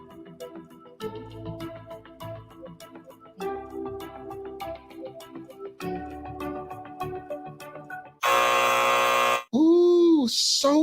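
A loud trivia game timer buzzer sounds for about a second after a stretch of upbeat music, followed by a brief tonal electronic alert.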